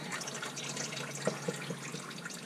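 Engine oil from a 2020 Ford Ecosport 2.0L drips and trickles steadily into a drain pan, a continuous wet patter with a few louder distinct drops.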